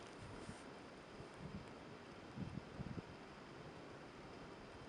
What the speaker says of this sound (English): There's just a gentle breeze, which the microphone might pick up a bit more, even though I've got the fur on it